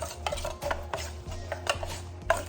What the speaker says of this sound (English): I'm just gonna stir them up.